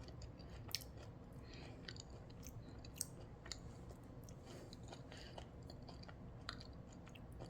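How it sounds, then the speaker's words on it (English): Quiet, close chewing of a Krueger seedless finger avocado eaten with its thin, crunchy skin, with soft wet mastication and a few sharper crunches spread evenly over low background noise. "I'm eating it with the skin. The skin is edible."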